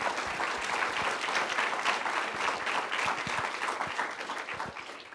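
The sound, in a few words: audience applause thanking lecture sponsors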